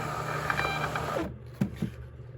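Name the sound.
Munbin thermal label printer printing shipping labels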